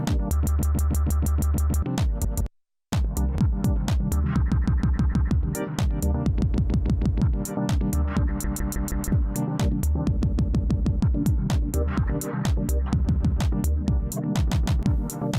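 Roland MC-101 groovebox playing a beat through its scatter effect with hold, a dense looping pattern of chopped, stuttering drum hits and tones that repeat and shift, with one brief dropout to silence.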